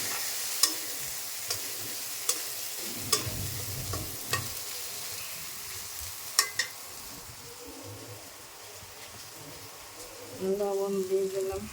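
Coriander and cumin powder fry in oil for a rohu fish and potato curry, a close hiss with repeated sharp spatter pops and stirring scrapes, and a louder surge of sizzling at the end.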